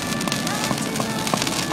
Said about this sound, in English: this is apparently a small firework display put on by the Hyatt Hotel across the river